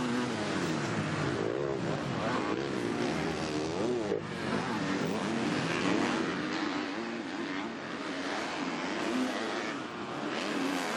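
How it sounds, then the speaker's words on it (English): Motocross bikes, Husqvarna and KTM machines, race in an MX2 event at the 2020 MXGP of Italy, their engines snarling and revving without a break, loud and layered, beneath a commentator's voice. "Number 14, Jed Beaton, should out-drag what is a very stock KTM with some modified tweaks here and there."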